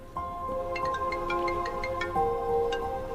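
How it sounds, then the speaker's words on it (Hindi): A mobile phone rings with a repeating electronic melody of bright, steady tones, fairly loud and continuous, over faint room background with no talking. "फोन इतनी देर से बज रहा है"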